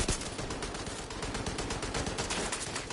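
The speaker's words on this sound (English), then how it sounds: "This guy has a light machine gun" A light machine gun hammers away in Division 2, a rapid, sustained stream of loud close shots with a steady rhythm and no speech.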